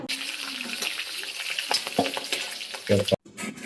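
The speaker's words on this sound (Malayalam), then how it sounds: "അതും ഇട്ട് അതിൻ്റെയും പച്ചമണം മാറുന്നോളം നമ്മൾ വഴറ്റിയെടുത്ത ശേഷം" Turmeric powder sautéing in hot oil for a North Indian style chicken curry, a close crackling sizzle with stirring scrapes and a few louder clatters near the end.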